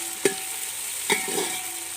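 Chopped onions fry in hot oil for a village-style mutton biryani, a steady close sizzle broken by three sharp scrapes of a spatula against the pan.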